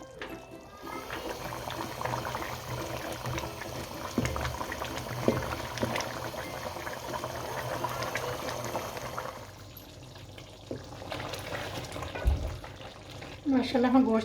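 Mutton and tomato karahi simmers in its pot as the water reduces, a steady close bubbling and sputtering that continues throughout, with a brief clatter near the end.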